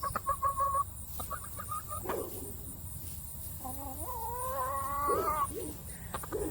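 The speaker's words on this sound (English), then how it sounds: "let's say hi to my chickens" Backyard hens, part of a flock of ten, cluck and squawk in short bursts and rising calls, close by, over a steady low outdoor hum.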